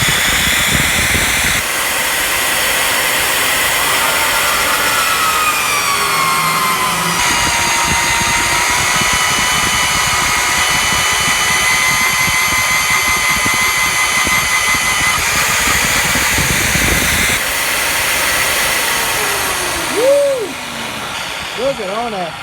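A magnetic drill press motor whines steadily for a long stretch, grinding through steel with a hissing, buzzing tone before spinning down near the end.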